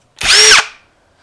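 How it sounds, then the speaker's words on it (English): A power drill spinning at high speed to elongate a hole in a GoPro Hero 5 Black camera, one loud, close burst of about half a second that winds down quickly. "I'll just put the drill bit in,"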